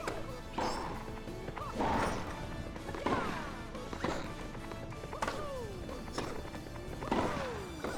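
Repeated sharp smash hits from a Mario Tennis video game match, about five punchy impacts spaced a second or so apart, each followed by swooping game effects, loud and clear with no talk.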